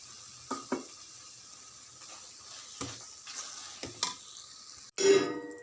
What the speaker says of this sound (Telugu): ఇప్పుడు మిక్సీ బట్టి పక్కన పెట్టుకున్న ఈ మసాలా పేస్ట్ వేసుకోవాలి.